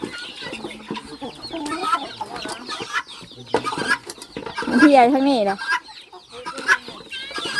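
Chickens and a mother hen cluck and squawk close by, with a burst of agitated calls midway, while people talk over and between the bird sounds in a farmyard.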